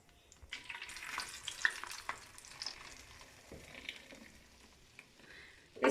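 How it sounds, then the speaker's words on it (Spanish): Red pipián sauce hits a hot clay pot and fries, a soft spreading sizzle with stirring and scraping, fading to a quieter bubbling before a brief louder clatter at the end. "Vamos a agregarlo a la cazuela"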